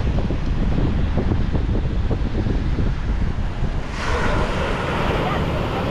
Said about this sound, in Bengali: খুব হাওয়া দিচ্ছে আর বড় বড় ঢেউ